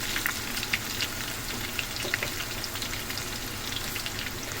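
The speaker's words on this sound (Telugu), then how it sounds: "ఉల్లిగడ్డ వేసిన తర్వాత కొంచెం ఫ్రై అవ్వాలి." Onions fry in a pan for a fish curry, a steady close sizzle and crackle with small pops and occasional light stirring, continuous and uninterrupted.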